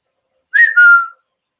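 A person whistles a short two-part call to summon two dogs, a rising note sliding into a longer steady tone, clear and close with silence around it.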